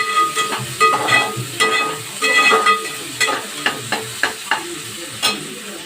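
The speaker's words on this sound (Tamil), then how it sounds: "நல்லா வதங்க" Vegetables for a hotel-style brinjal thokku sizzle loudly in a pan while a spoon stirs them, giving a dense run of quick scraping strokes over constant frying hiss.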